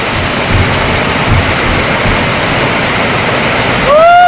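Heavy rain pours steadily during a storm, a dense loud wash of falling water throughout, with a brief tonal sound rising near the end.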